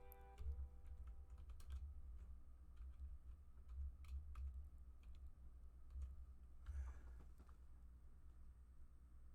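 Rapid typing on a computer keyboard, a steady run of close, light clicks with short pauses, heard alone over a low hum during a live stream.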